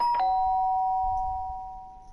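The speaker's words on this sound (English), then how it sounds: "The sound of the doorbell forced its way into my room." Doorbell chime in the video game Danganronpa Trigger-Happy Havoc, a single bright ring that sustains and slowly fades, clean with nothing else over it.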